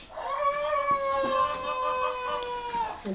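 A rooster crows in one long, drawn-out call in a village in Çağlarca, Antalya, loud and fairly close, held steady for nearly three seconds before trailing off.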